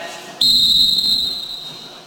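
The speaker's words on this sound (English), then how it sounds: "I'm going to blow the whistle, and James is going to give what's called an" A referee's whistle at a wrestling match gives one sharp, loud, sustained blast that starts abruptly and holds for well over a second before slowly fading.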